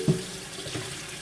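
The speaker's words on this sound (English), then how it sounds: "I'm just rinsing all these off." Water running from a kitchen tap as containers are rinsed, a steady close splashing flow with a brief knock at the start, no voices.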